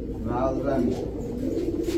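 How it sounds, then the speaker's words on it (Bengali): Pigeons of fancy breeds such as giribaj, pankhi and army coo continuously and close by, their throaty rolling calls overlapping without pause. "প্রতিটা কবুতর অ্যাগ্রেসিভ এবং প্রতিটা কবুতর খুব ডাকে"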